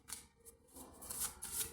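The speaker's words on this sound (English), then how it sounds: "I'm shuffling it off camera." Tarot cards being shuffled by hand, a quiet, brief run of soft papery riffles and flutters.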